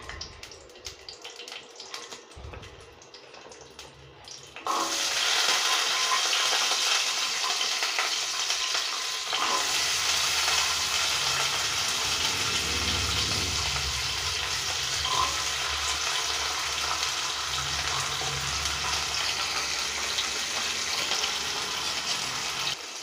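Garlic and onion dropped into hot oil with crackling cumin for karuvapilai kulambu, a quiet opening followed by a sudden loud, dense sizzle that stays steady and close for the rest, with faint stirring underneath.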